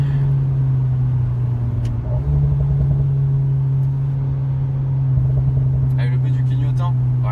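Steady engine drone from inside an Alpine A110 cruising at about 90 km/h, a loud low hum that holds constant, with a turn-signal ticking briefly near the end and people talking over it.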